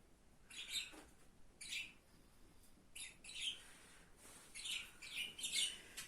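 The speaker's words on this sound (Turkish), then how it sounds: "Kuşlar ötüyor cik cik cik." Budgerigars chirp and tweet indoors in short, scattered bursts, faint and somewhat distant, with quiet pauses between calls.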